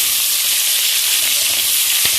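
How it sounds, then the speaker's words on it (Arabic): Chunks of meat sizzle loudly on onions in a hot pan while cooking spinach, a steady, bright frying hiss with faint stirring knocks near the end. "نزلت اللحمه على البصل، هقلبها كده"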